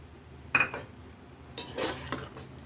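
A spoon scrapes and stirs through avial, a South Indian mixed vegetable curry, in a pan just after curd is added, with one quick clink followed by a longer stretch of soft scraping, close and fairly quiet.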